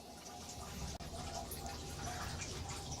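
Hot, steaming water runs steadily from a tap into a wet tumbler drum, a continuous close splashing and filling sound throughout with one brief dropout.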